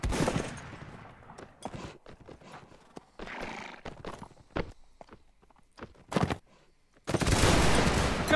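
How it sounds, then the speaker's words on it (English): A musket volley in the Mount and Blade Warband NaS mod fires as a massed crackling burst near the end, after horses clip-clop, whinny and shuffle about the field amid scattered shots. "Fire him by volley."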